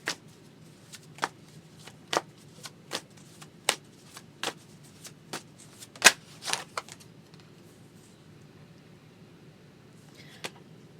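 Tarot cards being shuffled by hand in quiet surroundings, a run of crisp riffling snaps at an uneven rhythm with one louder burst midway, then near silence with a last faint snap.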